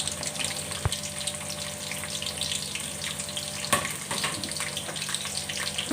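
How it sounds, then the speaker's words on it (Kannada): Fennel, onion and green chillies frying in oil, a steady hissing sizzle throughout with a couple of brief sharp clicks of a utensil against the pan. "ಸ್ವಲ್ಪ ಸೋಂಪು ಹಾಕ್ತಾಯಿದ್ದೀನಿ. ಹಾಗೆಯೇ ಅದು ಸಣ್ಣ ಸ್ವಲ್ಪ ಈರುಳ್ಳಿ, ಎರಡೇ ಹಸಿಮೆಣಸಿನ್ಕಾಯಿ ಹಾಕ್ತಾಯಿದ್ದೀನಿ."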